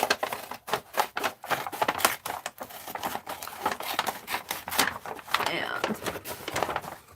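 Scissors cutting sheets of paper for a recycled art project, rapid repeated snips and crisp rustling of paper, loud and close throughout.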